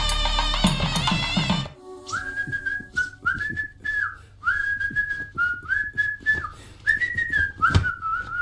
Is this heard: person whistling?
yes